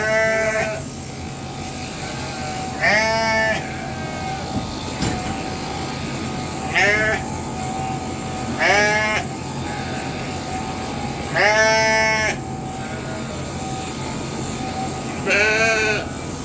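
Sheep bleating on a farm during shearing day, several loud, wavering calls spaced a few seconds apart over a steady background hum of machinery, close by.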